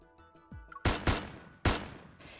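Sharp gunshots in the Love and Deepspace video game, a few loud close cracks in quick succession that ring out briefly after some lighter game sounds.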